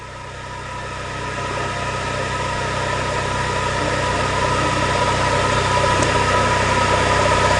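A machine engine running steady at about 1800 RPM during a source inspection, a loud, even drone with a low hum that grows slightly stronger over the stretch, with no talk.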